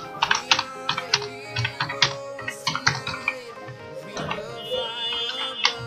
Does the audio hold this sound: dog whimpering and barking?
no